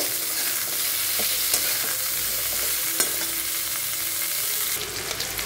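Steady, continuous sizzling of cauliflower frying in hot oil, close and fairly loud, with occasional clinks and stirring noises throughout.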